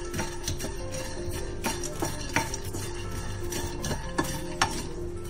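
Fox nuts (makhana) roasting in a pan with a little salt, stirred steadily so the spoon scrapes and clinks against the metal in a continuous rustling rhythm with a few sharper knocks, close and alone with no talk.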